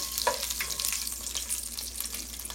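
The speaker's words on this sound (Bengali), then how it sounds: "একটু 1-2 মিনিট ভেজে নিব বাদামটা" Nuts fry in a pan while making Bangladeshi jorda laddu, a soft steady sizzle with light scraping and stirring clinks throughout, fairly quiet and close with no voices.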